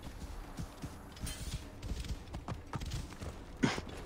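A horse's hooves clip-clop in the video game Assassin's Creed Origins: an uneven run of hollow hoof knocks at a walking pace, fairly close, with soft creaks and background ambience and a louder thump near the end.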